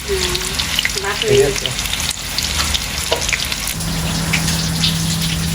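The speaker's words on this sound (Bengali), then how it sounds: "তাই মাছ ভাজি" Pangas fish frying in hot oil in a pan, a loud continuous sizzle and crackle close by, with a brief spoken interjection and a steady hum in the background.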